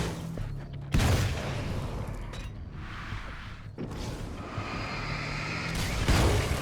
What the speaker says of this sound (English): It's an AA-12, holy shit.